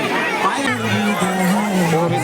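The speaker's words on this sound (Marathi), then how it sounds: "इकडं बायांचीच गर्दी आहे नुसती" A dense crowd of women chatters at a village fair in a tribal area, overlapping voices filling the space close and loud.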